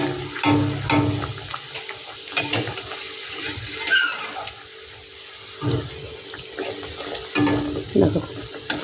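Veg mughlai frying in hot oil in a home kitchen, a steady sizzle and bubbling that stays loud throughout, with scattered utensil clinks and stirring noises.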